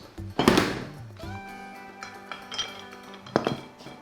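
A lid is set onto a cooking appliance with a sharp clanking thud, followed by a ringing metallic tone and a few lighter clinks, with faint talk in the background.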